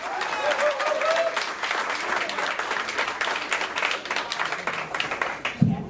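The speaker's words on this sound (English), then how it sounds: "Put your hands together for your host and your MC." Audience at a comedy club breaks into sustained applause and cheering for the evening's host and MC, a dense wash of clapping that holds steady for several seconds with a brief thump near the end.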